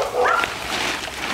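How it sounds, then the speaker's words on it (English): A backyard dog gives a short sharp yelp-like bark followed by a brief whimper, close and fairly loud, with outdoor noise and some background voice around it during a backyard camping outing. "I'm gonna put my dog inside because he's annoying as hell."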